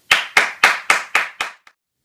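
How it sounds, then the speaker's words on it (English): Six crisp, evenly spaced hand claps from one person, close and loud, in a steady slow rhythm, followed by a faint seventh tap and silence. "You can start clapping now."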